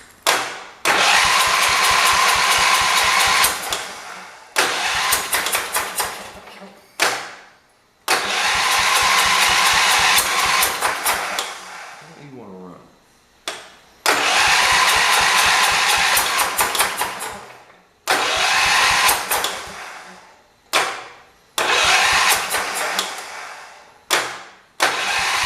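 A 1978 vehicle engine cranks and catches several times, running loud and close in bursts of a few seconds each, broken by short silences as it stalls and restarts.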